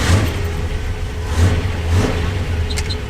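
A clapped-out Ford F250 truck engine runs while driving, a loud, close mid-range engine drone with slight surges in revs and some mechanical clatter.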